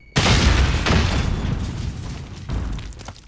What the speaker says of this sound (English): Oh, look, Semtex grenade manages to take him out.